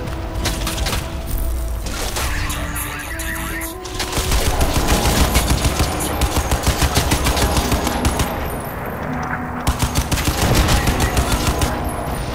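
A turret gun in the shooter game Crysis 2 fires rapid, loud automatic bursts, sustained almost continuously with short breaks and heavy thumping impacts.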